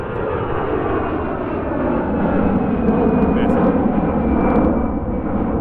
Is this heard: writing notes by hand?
no